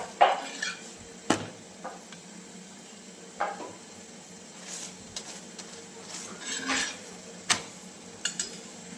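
Kitchen clatter of metal idli pots being set down on a stove, several sharp clanks and knocks spaced out over steady background hum, fairly close.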